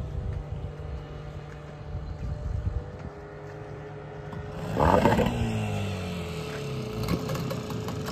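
A motorboat carries passengers out to sea at Malvan, its engine droning steadily at moderate distance, then a louder surge of engine noise and water rush arrives midway and settles into a continuous hum.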